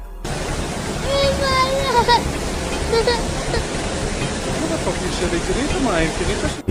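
Raging flood water rushing into a large canal in a national park, a loud continuous roar and rush of torrent with shouting voices and human calls rising over it throughout.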